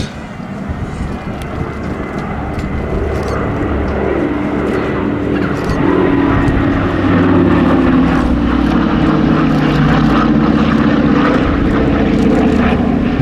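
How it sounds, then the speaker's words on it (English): The engines of a Douglas C-47 Skytrain propeller aircraft drone loudly and continuously at an air festival with a rough, throbbing roar, building slightly midway, mixed with wind buffeting on the microphone. "C-47 has a very, very recognisable sound."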